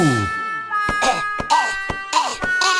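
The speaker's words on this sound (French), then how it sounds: "maintenant, il tousse. Il tousse pas mal." A series of harsh coughs in quick bursts, close and loud, mixed with some vocal sounds.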